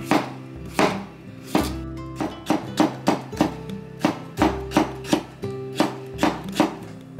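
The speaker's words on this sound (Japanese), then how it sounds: "きゅうりは細切りにします" Knife chopping cucumber into thin strips on a cutting board, a close, crisp series of evenly paced knocks in short runs with brief pauses between, no talking.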